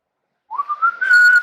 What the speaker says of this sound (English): I can't do this whistle thing.